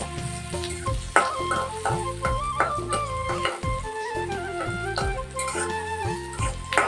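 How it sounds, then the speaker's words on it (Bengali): Onion frying in hot oil for a Bangladeshi jute leaf dal, a steady close sizzle with stirring clinks, while music plays over it throughout. "একটু হালকা বাদাম করে ভেজে নেব"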